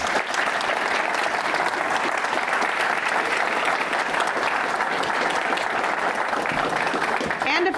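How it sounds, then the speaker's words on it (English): A college speaker-series audience applauds a guest speaker, giving steady, dense clapping that carries on evenly from start to finish. "give a great round of applause to our guest today"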